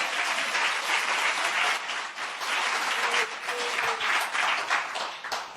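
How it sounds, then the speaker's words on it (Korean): Sustained applause from a conference audience at a worship gathering, a dense steady wash of many hands clapping that fills the whole stretch with brief dips. "우리가 주님께 박수와 영광을 돌리겠습니다"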